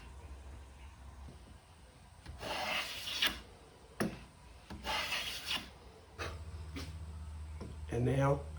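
A restored Stanley No. 3 hand plane shaves wood, making a few rasping, swishing strokes with short pauses between them. The strokes are close and moderately loud over a quiet room.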